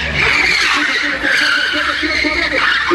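A turbocharged Chevette drifts during a maneuvering run, its tires squealing and skidding continuously over a loud engine roar, close and sustained, with voices in the background.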